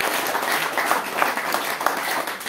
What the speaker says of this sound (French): Encore des applaudissements pour vos amis